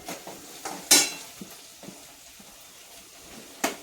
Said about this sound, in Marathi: आपल्याला हे असं चांगलं ढवळून घ्यायचं.